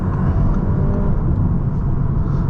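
Continuous low engine growl of a car cruising in Toronto after a shift from second to third gear, steady and fairly loud with no voices.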